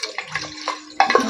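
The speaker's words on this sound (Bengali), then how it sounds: "জলটা আমি দিয়ে দিয়েছি" Water poured into a cooking pot for mutton paya soup, a short, close splashing pour lasting about a second, alone with no voices.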